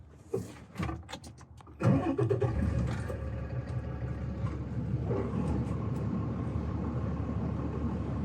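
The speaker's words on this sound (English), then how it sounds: "then you'll say, I can start the truck" A truck engine cranks over and catches at about two seconds, then settles into a steady, loud diesel-like idle that runs to the end, preceded by a few clicks and knocks from inside the cab.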